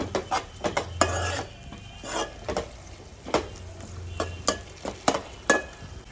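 Green chillies are stirred in a pan for a fish curry, a spoon scraping and knocking against the metal in quick irregular strokes over a faint, low sizzle.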